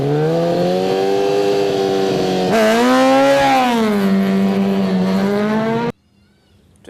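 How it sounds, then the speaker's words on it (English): Racing motorcycles at the Isle of Man TT, roaring past at high speed on a road circuit, one loud high-revving engine whose pitch climbs and then falls away before the sound cuts off abruptly. "With over 300 turns, competitors race at breakneck speeds, averaging 130 miles per hour."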